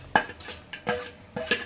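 A spoon stirring fried cashews, peanuts, almonds and makhana into sabudana upma in a pan, giving several distinct metallic scrapes and clinks in an uneven rhythm, close up with no talking.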